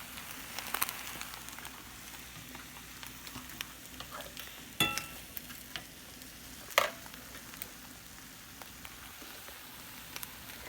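Tortillas frying in oil in a pan for chilaquiles, a quiet steady sizzle with occasional louder pops and stirring clinks.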